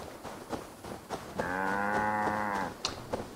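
A single long cow moo in the video game Assassin's Creed Valhalla, a clear lowing call lasting about a second over quiet footsteps and ambient game sound.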